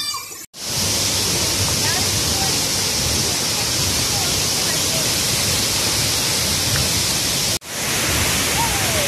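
Pipin Waterfalls at Lake Sebu, part of the Seven Falls, gives a loud, dense, continuous roar of falling water, broken only by two brief cuts in the sound.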